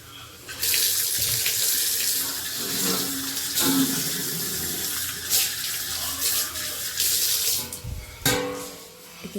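Rice being rinsed under a running kitchen tap, a steady splash of water into a pot or bowl with occasional sloshing and stirring, close and fairly loud, no talking.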